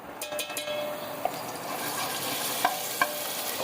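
Garlic-ginger paste sizzles and crackles steadily in hot oil, with a few sharp clinks of a spoon against the pan.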